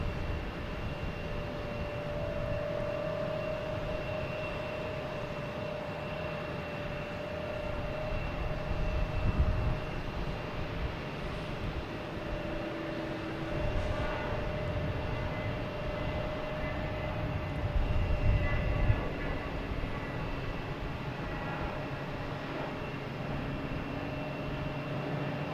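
A Hawker Beechcraft aircraft passing at Boston Logan Airport, a fairly faint, distant engine drone with a steady tonal hum and occasional low swells of rumble.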